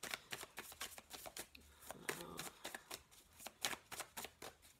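Tarot cards are shuffled by hand in a steady run of crisp, fluttering riffles and slaps, fairly close and loud, with no voice over them.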